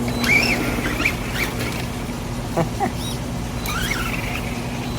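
A Redcat Racing Wendigo RC car reversing, a steady electric motor whine with faint rising chirps and light rattling, close by, with brief voices around it.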